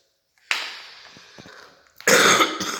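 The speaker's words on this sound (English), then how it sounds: "Excuse my coughing, guys." Two harsh, close coughs from one person, the first a drawn-out rasp and the second a louder, abrupt burst near the end, with no speech.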